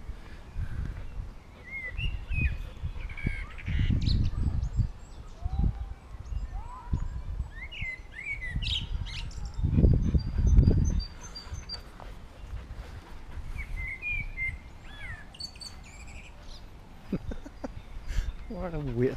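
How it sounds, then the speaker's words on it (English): Birds call and chirp outdoors near a marsh at Utterslev Mose, with bright scattered chirps over steady rustling ambience and occasional low thumps, while people talk intermittently. "Love the sound of birds."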